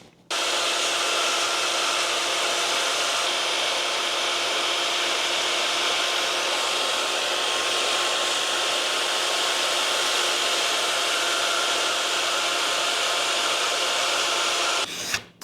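Power sanding along the edges of wooden barrel blanks, a steady, loud, continuous abrasive whir held for about fifteen seconds with no pauses and no talk.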